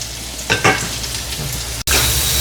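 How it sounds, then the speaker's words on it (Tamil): Chicken sautéing in a pan for chicken lollipop and biryani gives a loud, steady sizzle and frying crackle, with a couple of stirring scrapes and a brief cut near the end, and no voices. "வேறு இப்போ பாருங்க வதங்கட்டும் வடிவா"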